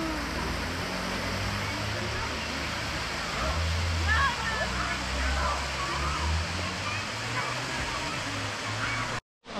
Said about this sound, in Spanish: vamos a ver la cascada de Tobalina, que todo el mundo habla tanto